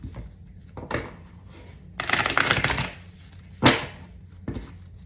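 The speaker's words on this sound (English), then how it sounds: "there's one more shuffle that needs to happen here" Tarot cards are shuffled in several short bursts: a brief riffle, a longer flurry in the middle, then two quick sharp snaps with quiet pauses between.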